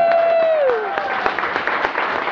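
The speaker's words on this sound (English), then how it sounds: "So give him a round of applause." Audience applause at the Glitch Con 2011 closing ceremonies, dense clapping from a crowd with a cheer or whoop riding over it at the start, steady and fairly loud throughout.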